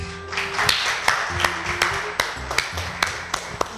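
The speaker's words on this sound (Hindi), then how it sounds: "एक बार तालियां हो जाए।" An audience applauds on an Indian televised dance competition, with a burst of sharp, fairly steady hand claps over a bright wash of clapping that lasts throughout.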